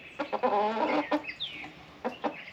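American Breese chickens, about eleven weeks old, cluck and squawk in short, close bursts during a weigh-in, with a few sharp calls spaced across a quiet background.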